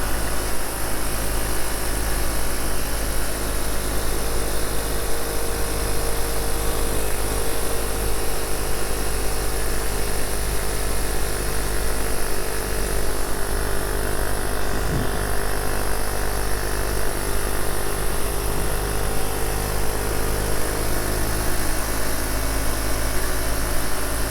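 A steady small engine of a Chinese-made Monkey-style moped drones continuously while riding at a constant, fairly loud level, with a faint higher whine and wind-like rush, no talking.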